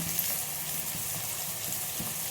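Tomatoes frying in a pan for an egg curry give a steady, close sizzle, an even hiss with faint crackles throughout and no voices.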